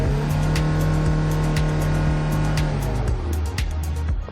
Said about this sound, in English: Let's try to accelerate and show you the RPMs movement.